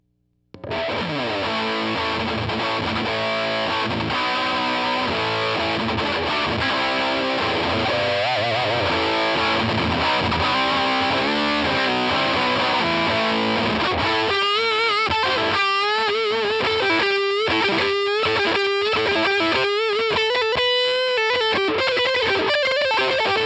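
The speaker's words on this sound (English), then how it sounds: "you get an extreme high gain distortion that the new metal guys are using" A heavily distorted electric guitar plays alone through an extreme high-gain distortion pedal, thick saturated chords and riffs with sustained notes, loud and constant throughout.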